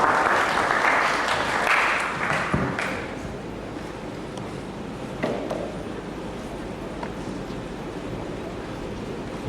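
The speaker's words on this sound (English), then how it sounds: "A round of applause for her." An audience at a university gathering on gender mainstreaming claps, a burst of applause that starts strong and fades into a noisy, murmuring room.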